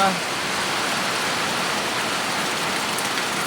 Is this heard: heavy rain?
yes